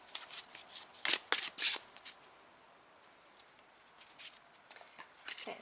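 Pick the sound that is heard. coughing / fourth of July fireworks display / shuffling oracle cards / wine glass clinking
shuffling oracle cards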